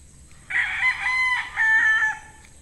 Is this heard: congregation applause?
no